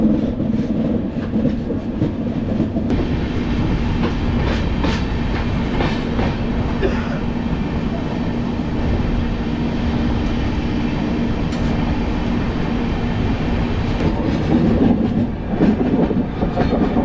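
Visakhapatnam to Araku Vistadome train running steadily on rails, a continuous loud rumble of wheels with rhythmic clacking and a low hum throughout, faint voices now and then.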